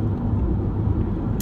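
A low, steady road rumble fills a moving car while driving in traffic, with a dull engine drone and no voices over it.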